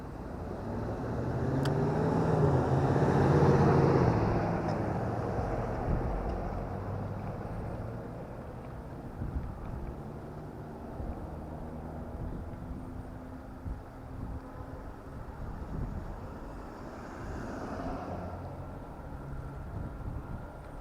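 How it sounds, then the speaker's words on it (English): Steady whir of a Voilamart 1000 watt electric bike kit motor, set to 750 watts, running under wind rush while riding, loudest early on and then settling into a continuous drone. "I can still hear the motor working, but it's not working as hard as I thought it would"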